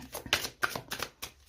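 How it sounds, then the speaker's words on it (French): Tarot cards slide and snap as one is placed over another, a quick run of soft papery flicks and taps, close and fairly quiet. "On va la recouvrir tout de suite, cette carte."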